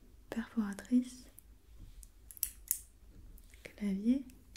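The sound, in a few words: paper hole punch, ASMR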